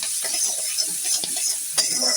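Capsicum and onion sizzle steadily in a pan, with a few soft spatula scrapes and light clinks over a constant hiss. No one speaks.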